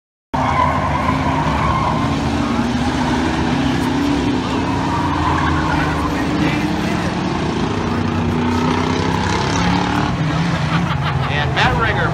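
Factory stock race cars roar around Toledo Speedway in a heat race, a dense continuous engine drone from a pack of cars with tire squeal and shifting pitch as they pass, steady and loud throughout.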